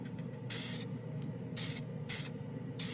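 Glidden Max-Flex spray paint can spraying in four short hissing bursts, each about a quarter to half second long, close and fairly loud with brief pauses between.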